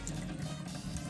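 Makeup brush rinsed under running water, a faint steady trickle and splash of tap water lasting about a second, with no voices.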